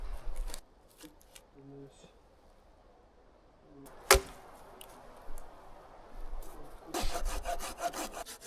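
A resin-filled wood log is hand-sawn at a forest campsite in Latvia, with scattered scrapes and a sharp knock before a burst of close, rasping saw strokes near the end.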